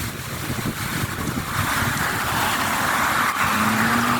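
Strong wind from a whirlwind in Calasiao, Pangasinan, buffeting the microphone in a loud, continuous roar that grows heavier midway, with a faint engine hum underneath.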